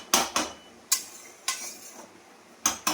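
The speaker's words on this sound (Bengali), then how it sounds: "এবার একটু ভাজা ভাজা করে নেব।" Water spinach (kalmi shak) being stir-fried in a pan, with about six sharp, irregular clinks of a utensil striking the pan, close and fairly loud, and only faint background between the strikes.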